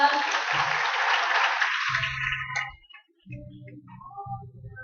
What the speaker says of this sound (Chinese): 给他们一个掌声